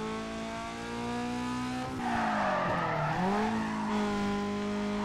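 Tires skid and squeal as a car in the racing game Need for Speed Carbon is thrown into a handbrake turn, the engine droning steadily beneath a loud, sweeping screech that rises and falls mid-slide.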